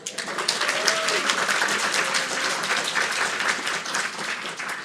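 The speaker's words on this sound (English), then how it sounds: "Should we start with a round of applause?" An audience at a first and second grade poetry recitation breaks into a steady round of applause, many hands clapping together at moderate loudness, with faint voices mixed in.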